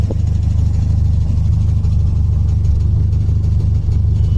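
An old Toyota car with a 20R engine runs at a steady idle, a loud, close, continuous low rumble with no talk.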